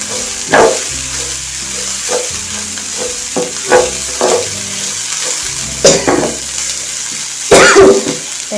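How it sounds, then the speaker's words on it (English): Meat filling for samosas frying and being stirred in a pan, with soft scraping strokes and brief louder clatters recurring every second or so over a steady low sizzle. "And we'll just stir it."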